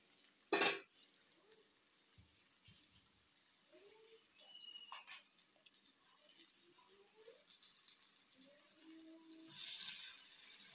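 Water poured into a pan of food cooking on a home stove, with a sharp hiss and splash near the start and again near the end, and soft stirring and bubbling in between.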